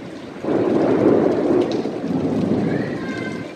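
Heavy rain pours in a steady roar with a deep rumble of thunder, loud and continuous, during a sudden storm at a beach resort in Mandarmani.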